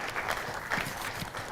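Applause from an audience at a community awareness night, a soft, fairly steady patter of clapping that stays moderate in level throughout, with no talk over it.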